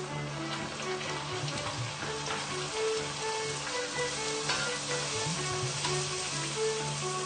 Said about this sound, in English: Let's fry our puris.